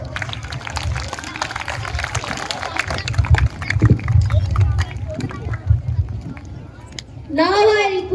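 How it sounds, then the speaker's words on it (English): An audience applauds at a school investiture ceremony, producing a sustained patter of many hands clapping that fades toward the end, with a voice speaking over a microphone as the clapping dies down. "Please give a big round of applause."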